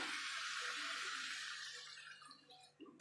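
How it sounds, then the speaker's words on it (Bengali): A small stream of water is poured into a pan of vegetarian jackfruit curry, giving a steady close splashing pour that trails off near the end. "এবার দিয়ে আমি অল্প করে জল দিয়ে দেবো।"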